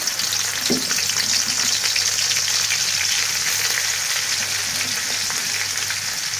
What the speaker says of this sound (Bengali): এই যে কড়াইতে তেল দিয়ে দিলাম। এখন এই ছেঁচা পেঁয়াজ, কাঁচামরিচগুলা দিয়ে দিলাম।